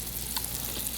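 Snapper fillet frying in a pan with a steady soft sizzle, heard briefly and close at low volume with no talking.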